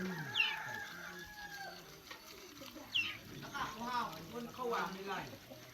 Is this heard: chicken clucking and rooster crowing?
yes